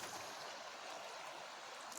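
A creek runs steadily just north of the Arctic Circle, its broad, even rush of water soft and continuous throughout, with no voices over it.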